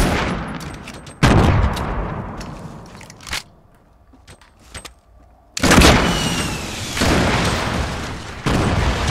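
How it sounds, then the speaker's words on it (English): Gunfire in Fortnite Battle Royale, heard as several loud, sharp broadband bursts with quieter rattling and crackling between them, followed by a dense, heavy barrage near the end. "I'm getting shot at"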